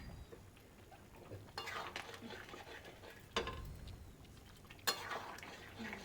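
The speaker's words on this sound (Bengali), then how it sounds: "ভালো করে এটা মিশিয়ে নেব" Chicken coated in store-bought chicken masala is stirred in a pan, soft scraping and a few sharper spoon clinks against the metal over a low, quiet sizzle.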